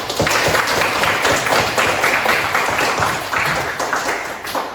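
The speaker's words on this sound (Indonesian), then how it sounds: "Beri aplaus pada kelompok 4" Classroom applause for a student group after their presentation, a dense burst of many people clapping that holds steady and then gradually tapers off.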